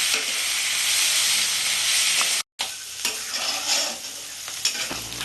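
Onions with salt frying in a pan, a bright, loud sizzle with scraping stirs, a brief break, then a sputtering hiss that picks up again, with no talking.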